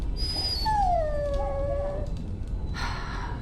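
A dog in the Dragon Age: Origins video game gives a single drawn-out whimper that slides down in pitch. It is clear and close over a low ambient rumble, and a brief faint rustle follows.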